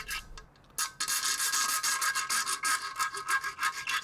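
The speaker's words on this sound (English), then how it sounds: "To cut this one, it was easier to hold it in the threaded hole rather than try and use a vise." Hand sawing or filing through a stainless steel screw held in a threaded hole of an alloy engine block, a close, rhythmic rasping stroke repeated steadily after a brief pause.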